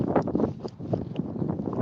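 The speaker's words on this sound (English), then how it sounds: "Sorry for the wind. It's windy out there." Gusty outdoor wind buffets a microphone, producing close, rumbling bursts of muffled noise that rise and fall unevenly throughout.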